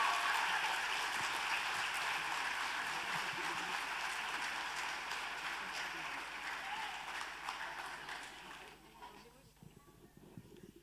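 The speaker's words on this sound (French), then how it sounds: "on va demander d'applaudir tout le monde" Parents and children at a primary school awards ceremony in Mons give a full round of applause, steady and fairly distant, gradually fading toward the end as voices emerge.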